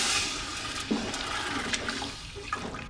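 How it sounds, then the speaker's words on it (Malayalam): Water soaked with kudampuli, Malabar tamarind, is poured into a pot, producing a steady close gushing and splashing flow with a few small bubbling accents. "ആ വെള്ളം ഞാൻ അങ്ങോട്ട് ഒഴിക്കുകയാണ്"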